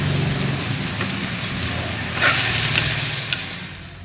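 Chicken and aromatics for Filipino arroz caldo sauté in a hot pan, a steady close sizzle and hiss with occasional stirring scrapes, continuous and fairly loud with no talking.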